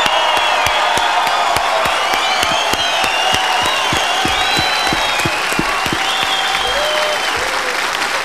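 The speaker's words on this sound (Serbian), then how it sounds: "A sada čujemo aplauz za Tanju Savić ili za plavu Daru Bubamalu." Loud, sustained audience applause with steady rapid clapping, scattered cheers and whoops from the crowd for singers Tanja Savić and Dara Bubamara at a duet show.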